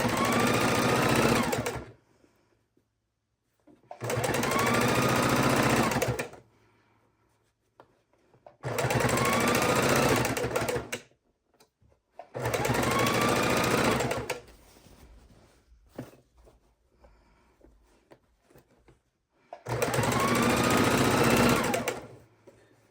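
A sewing machine stitches binding onto a Christmas quilt in five loud, steady bursts of several seconds each, separated by quiet pauses with faint handling noise.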